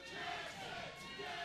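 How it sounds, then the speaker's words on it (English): A crowd at an indoor wrestling show cheers in a steady, dense roar of mixed voices, heard at a distance as a continuous wash of sound. "You hear them cheering for Jason Jackson"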